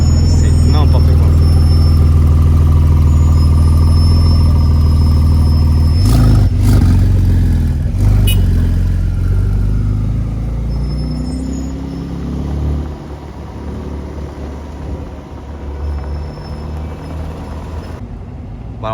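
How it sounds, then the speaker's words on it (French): A Porsche 992 Turbo S passes on a Paris street, its deep engine rumble loud and near before it fades away. Traffic noise and talking voices run throughout. "la 992 turbo, la turbo S, elle repasse encore une fois, 3e fois qu'elle passe au même endroit"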